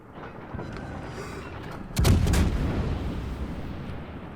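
A French tier-6 premium De Grasse cruiser's guns fire in World of Warships, a loud booming salvo that breaks over steady low engine and sea rumble, then trails off into sustained noise.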